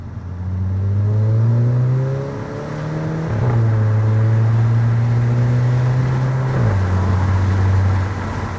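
Exhaust of a VW Eos 2.0 TSI heard from inside during acceleration. A deep engine drone climbs through the revs, dips at two gear shifts, and pulls on steadily and fairly loud.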